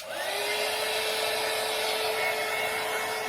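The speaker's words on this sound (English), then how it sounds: "So I'm going to give these a quick dry." A dryer blows a constant, even whoosh over freshly painted ornaments, steady and fairly loud throughout with a faint high whine, nothing else audible.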